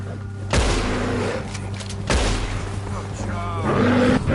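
In Red Dead Redemption 2, a bear roars amid sharp gunfire. Two heavy blasts and a loud roar ring out, with a growling, snarling tail near the end and game ambience between them.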